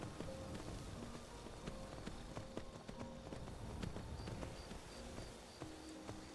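Horse hooves clop in an irregular rhythm over hard, rocky ground in Skyrim, with a faint steady game ambience underneath.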